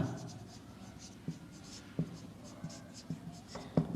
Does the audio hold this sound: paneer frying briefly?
no